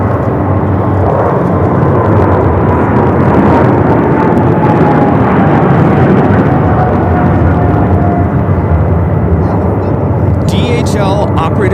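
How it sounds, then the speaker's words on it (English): A Singapore Airlines Boeing 777 freighter, operated for DHL, rolls down runway 25 left at LAX on takeoff, a loud, steady jet roar with a slowly falling whine, held throughout with voices talking over it. "Also have a Singapore 777 freighter rolling down at 25 left."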